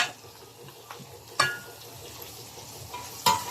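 String beans dropped into a pan of sautéing mussels: a soft steady sizzle with a couple of sharp clattering stirs and scrapes against the pan.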